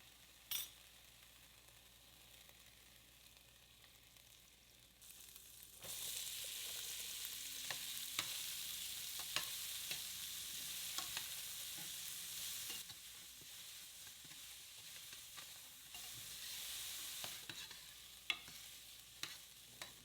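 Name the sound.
celery and onion frying in bacon fat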